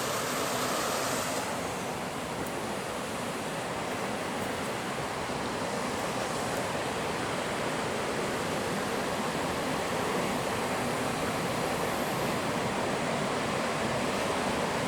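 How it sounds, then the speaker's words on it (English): Waterfalls at an abandoned Japanese onsen resort roar as a steady broadband rush of falling water, loud and constant throughout, with no talking. "You just chill, you can watch the waterfalls from here."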